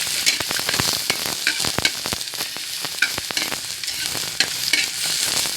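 Ginger sautés in hot oil in a pan for sinigang bangus, crackling with a steady sizzle broken by repeated sharp scraping clicks of stirring, close and fairly loud with no voices.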